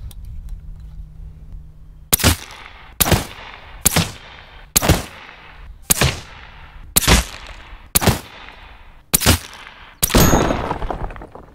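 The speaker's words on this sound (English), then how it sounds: "I'm gonna put 15 rounds into that solid concrete block and just see if we can destroy it" Nine loud, separate gunshots from a Western Rattler bullpup air rifle firing 142-grain slugs into a solid concrete block outdoors, each sharp crack spaced about a second apart with a short ringing tail.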